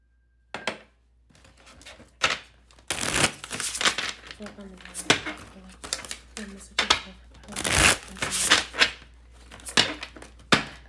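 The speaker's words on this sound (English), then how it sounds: "I have to shuffle a lot today." Tarot cards shuffled by hand in repeated bursts of riffling and flicking, close and fairly loud, with short pauses between bursts and a voice talking softly underneath.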